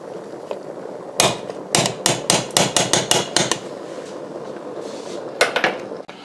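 A spoon clanks rhythmically against the side of a metal pot of boiled water as it is stirred, a quick run of bright knocks followed by a pause and a few more.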